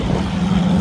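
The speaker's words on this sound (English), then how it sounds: "Oh, I hear race car." Race car during Rocky Mountain Race Week on a road across the plains, its engine a steady, droning hum heard briefly from a distance rather than close up.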